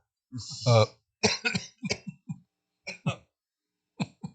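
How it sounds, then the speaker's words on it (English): A person coughs and clears their throat several times in short, uneven bursts, close up, with brief silences between them. "I took a drink so I wouldn't cough, and I still cough"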